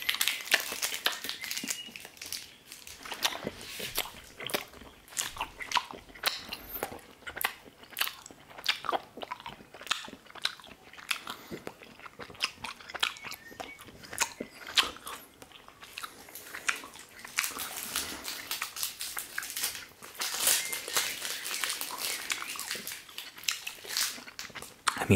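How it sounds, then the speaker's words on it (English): Close, crunchy chewing and biting of sour candy, repeated wet and crisp bites at an uneven rhythm, heard alone and fairly quiet. "now you get some chewing sound"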